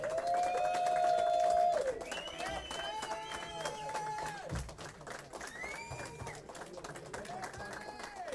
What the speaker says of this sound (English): we'd like to give a big round of applause to this evening's runner-up